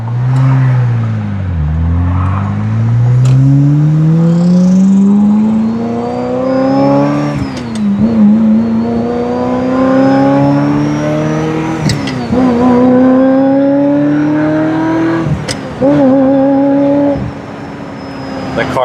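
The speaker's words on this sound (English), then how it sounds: "The car sounds amazing." A 1997 Ferrari F355 Spider engine revs hard while driving, loud and close. Its pitch climbs steadily and then drops sharply at each gear change, repeating through several shifts.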